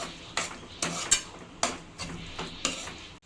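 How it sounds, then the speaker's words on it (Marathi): Paneer bhurji stirred into masala in a pan: a series of about eight distinct scraping and clinking strokes of a spoon against metal, evenly spaced, over a faint background sizzle. "आता आपण हे मसाल्यामध्ये एकजीव करून घेऊया पनीरला चांगलं"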